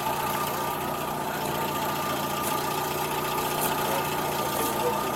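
A vehicle engine idling steadily while being backed up slowly, a continuous close mechanical hum with a faint knocking texture and no talk.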